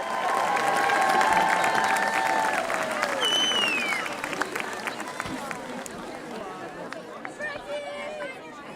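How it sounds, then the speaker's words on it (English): A stadium crowd at a Dartmouth High School football game against Bridgewater-Raynham applauds and cheers for the 2025 graduating seniors. The clapping is loud and sustained, mixed with shouts and chatter, then gradually thins out. "a nice round of applause for our 2025 graduating seniors"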